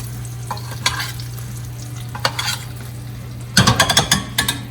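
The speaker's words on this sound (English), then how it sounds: "then we're going to baste" Hot butter sizzles gently as it is spooned over a hasselback butternut squash, with a low steady hiss, scattered splashes, and a quick cluster of crackling spatters toward the end.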